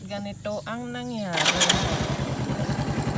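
A motorcycle fitted with a cold air intake starts up after someone speaks, then settles into a loud, close, rapid, throbbing idle with a raspy edge.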